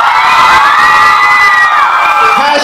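A concert crowd at a private pop show at a House of Blues cheers and shouts loudly and continuously, with high screams and whoops filling the space throughout.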